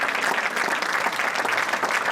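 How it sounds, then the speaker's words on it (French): A conference audience claps steadily and densely throughout, a full, continuous round of applause from many hands with no voices standing out. "C'est eux que vous devez applaudir."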